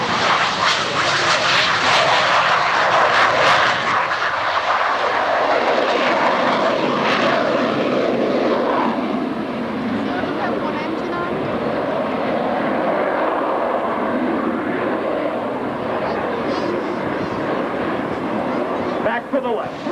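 Blue Angels jet aircraft of the US Navy flight demonstration team performing at the 1996 Cleveland National Air Show, a loud continuous roaring engine drone that holds steady throughout, with an announcer talking over it.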